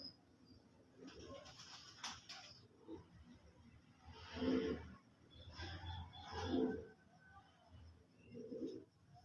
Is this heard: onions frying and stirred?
no